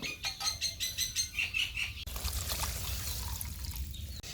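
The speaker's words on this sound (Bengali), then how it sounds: "এখন ঝোল দিয়ে দিব।" Broth poured over sautéed cauliflower for a fish curry, a close liquid splash and trickle into the pan following a few seconds of bright chirping and fluttering sounds.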